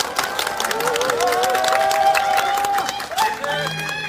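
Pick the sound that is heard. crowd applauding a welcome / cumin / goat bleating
crowd applauding a welcome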